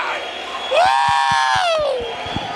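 A church congregation at a worship service rises into high, wavering ululation with voices, over a rhythmic pulse of clapping and music, loud and close.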